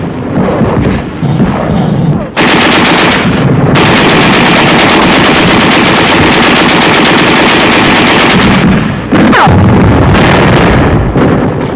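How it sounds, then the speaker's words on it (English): Sustained machine gun fire mixed with heavy artillery shell blasts during a 1945 WWII Rhine crossing, loud and relentless with short pauses and a low boom near the end. "There is some machine gun fire and occasional shells"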